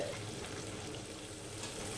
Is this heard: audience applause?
no